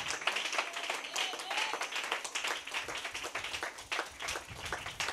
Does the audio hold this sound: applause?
yes